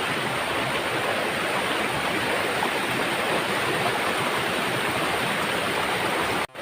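Stream water from Akkacheri waterfall at Maukkode pours over rocks in a steady, dense rushing roar, close and loud without a break, stopping abruptly at the very end.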